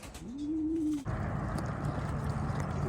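Racing pigeons out on road training at 8 Mile Road in Stockton, California: one drawn-out, rising coo-like call, followed by a steady broad rush of wind or wing noise that runs to the end.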